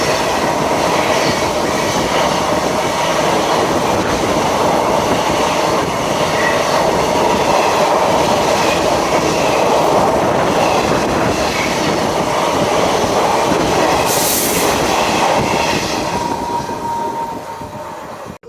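A passenger train on a railway trip to Tirupati sounds from close by, with loud, continuous rumbling and clattering of wheels on rails and carriages rattling. A brief high squeal comes near the end, and no one speaks.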